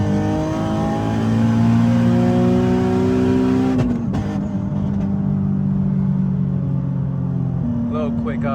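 A turbocharged Nissan Z pulls hard under mid-range boost, the engine note climbing steadily and loudly before an abrupt lift-off with a brief whoosh, then settling into a lower drone.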